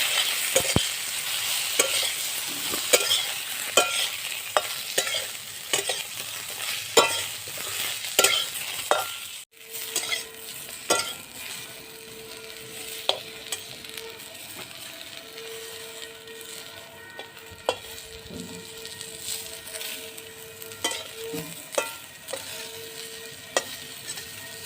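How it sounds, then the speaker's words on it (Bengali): Eggplant pieces fry with five-spice in leftover fish-frying oil, giving a steady close sizzle broken by repeated scraping clicks of a spatula as they are stirred, with no talking. "এবারে এতে বেগুনগুলো আমি দিয়ে ভাজা করে নেব"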